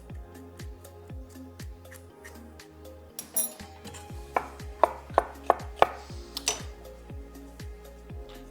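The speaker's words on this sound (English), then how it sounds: "And then we'll just give that a chop and straight in the blender as well." A knife chops cucumber on a cutting board in a kitchen, rapid steady taps that continue throughout, with a few sharper clinks of utensils midway, close and clear without talk.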